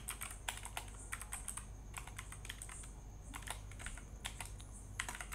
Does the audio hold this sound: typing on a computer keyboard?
yes